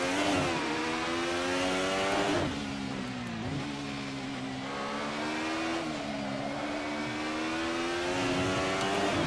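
An Alfa Romeo 155 DTM race car in a video game laps Zandvoort, its engine revving hard and rising through the gears with brief dips at the shifts, loud and continuous with no voices.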